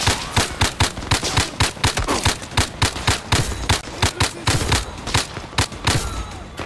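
Rapid rhythmic gunfire in the VR shooter game Zero Caliber, a steady string of sharp loud shots repeating several times per second throughout, with no talk.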